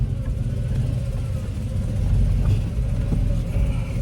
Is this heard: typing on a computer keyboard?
no